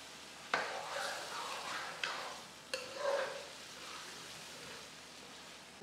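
Goat meat for achar gosht being stirred and fried in a pot, giving a soft sizzle under a few scraping stirs, faint and close.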